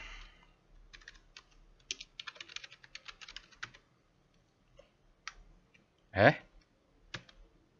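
Someone types on a computer keyboard while looking at stock charts, a close run of quick key clicks with pauses, then a louder thump and a few last isolated taps. No voices.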